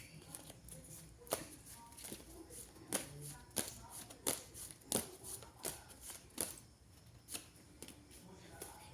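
Tarot cards shuffled by hand close up, a steady run of crisp riffles and taps in a quiet room, with soft speech in the background.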